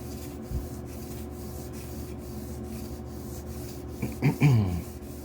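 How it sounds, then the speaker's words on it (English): Lapping a CPU heat spreader by hand on sandpaper gives soft, slow back-and-forth rubbing strokes at close range, faint and regular, ending in a few louder scrapes. "just go back and forth nice and slow. That's it. And this is lapping."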